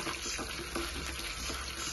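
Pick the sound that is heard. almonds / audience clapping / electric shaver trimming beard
almonds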